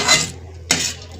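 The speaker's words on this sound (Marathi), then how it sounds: "मनुकाही भाजून घेते।" A spoon scrapes and stirs raisins roasting in a metal pan for mung dal laddoos, three short scraping strokes separated by quiet pauses, close and clear.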